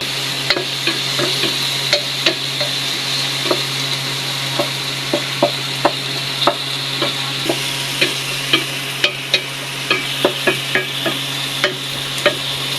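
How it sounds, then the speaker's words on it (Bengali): Oil sizzles steadily in a pan of frying onion, chilli and garlic while a spoon scrapes and taps in a regular stirring rhythm, close up and with no talking. "পেঁয়াজ মরিচ আর রসুন ভেজে নিচ্ছে"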